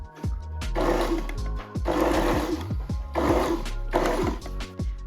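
A sewing machine topstitches the back yoke seam of a custom dress shirt, running in three steady bursts of rapid stitching separated by brief pauses, close and loud with no talk.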